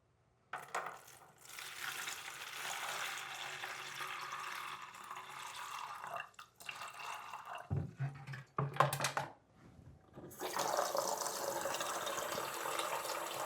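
Tap water pours from a sink faucet into a vinegar mixture for reviving an aquarium pump, a steady splashing hiss that breaks off briefly with a few clunks midway, then resumes strongly.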